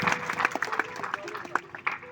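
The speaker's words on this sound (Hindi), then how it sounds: "ताली बजा दो इनके लिए।" Audience at a Hindu satsang gathering claps in a loose, uneven patter of scattered hand claps, moderately loud and a little distant, with no talking over it.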